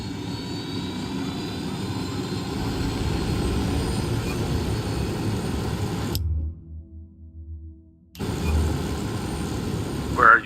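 An aircraft engine drones steadily in the Ghost Recon Wildlands shooter game, a loud continuous rumble that cuts out abruptly for about two seconds, then resumes, with a voice briefly heard.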